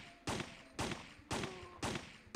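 Four sharp gunshots fire at an even pace in Resident Evil 3, each a loud broadband crack that trails off briefly before the next, with no voice over them.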